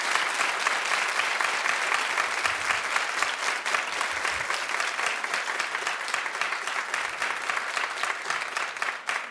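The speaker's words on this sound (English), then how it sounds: "Yeah, don't clap for so long." Sustained clapping from a television talk-show studio audience, a thick continuous roar of many hands, loud and close, holding steady for several seconds without any voices.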